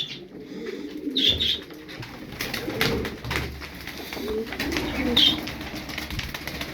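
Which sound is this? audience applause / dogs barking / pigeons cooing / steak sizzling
pigeons cooing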